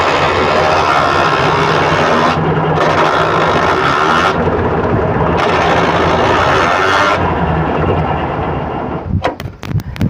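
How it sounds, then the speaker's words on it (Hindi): A tractor with a single-clutch system is shifted with the clutch pedal fully pressed, and the engine drones loudly and continuously with rough grinding texture from the gears, ending in a few sharp clunks. "गियर शिफ्टिंग करने के लिए हमने प्रयास किया, उसके बाद किस तरह से खिरखिराहट की आवाज़ आ रहा है"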